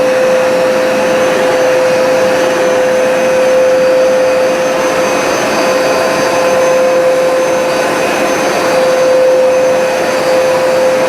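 A Hoover SmartWash carpet cleaner runs steadily while drying a carpet, giving a loud, constant vacuum-like whine with a sharp tonal hum. It sounds close and unbroken throughout, with no voices.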